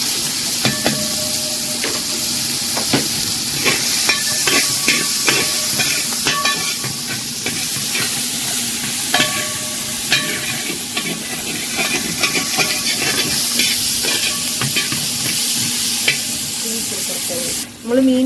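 Chopped onions sizzle steadily in a hot frying pan while a spoon scrapes and stirs through them, a continuous loud hiss broken by repeated clinks against the pan, as chembally fish masala is being prepared.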